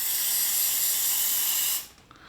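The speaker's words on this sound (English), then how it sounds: "I'm just going to spray this one and see what happens." A sharp, steady hiss of electrical contact cleaner spray lasts nearly two seconds, then cuts off abruptly, leaving quiet.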